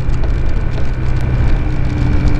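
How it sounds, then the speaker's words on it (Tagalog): Rain falling during a highway ride on a Honda ADV 160 scooter on a trip north, a steady dense hiss of drops and wind with a low engine and road rumble underneath, constant and close throughout. "inuulan na yata tayo dito"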